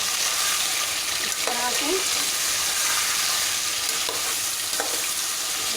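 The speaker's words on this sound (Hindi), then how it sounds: "चिकन का जो कलर है वो होने देंगे चेंज फास्ट गैस पे ही।" Chicken frying on a high gas flame, a steady loud sizzle with scraping stirring sounds throughout, while a person speaks briefly over it.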